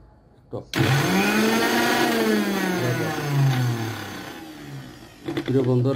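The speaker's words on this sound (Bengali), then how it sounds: "আমরা এটাকে ব্লেন্ডার করে নিলাম। প্রচণ্ড শব্দের কারণে কথাগুলো বলা যায় না।" A loud electric blender whirs steadily for several seconds, its motor pitch sagging and wavering as it works, then stops and starts again briefly at the end.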